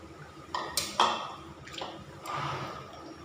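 Soaked dried fish dropped into a cooking pot for a Thai dried-fish curry with sweet leaf greens: a few clattering pot knocks and wet splashes and squishes, close and moderate in level, with no speech.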